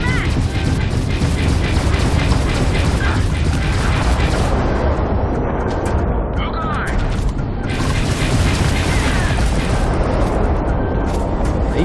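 Ship lasers from the custom Valkyrie MKII fire in Starfield, a dense, loud mechanical barrage of rapid clattering shots and heavy impacts running continuously without letup, with a voice talking over it.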